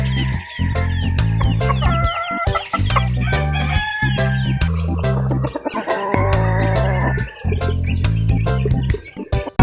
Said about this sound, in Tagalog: isasali ko yung mga manok ni paring Titing dito.